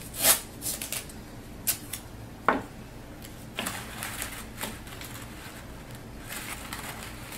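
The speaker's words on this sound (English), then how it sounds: "To hold it into place, you will use your tape." Tape pulled and pressed onto a paper mache volcano: scattered close ripping and crinkling bursts, a few sharp tears, with light rustling and handling noise between them.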